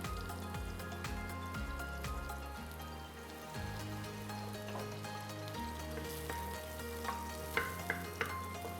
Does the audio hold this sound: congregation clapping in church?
no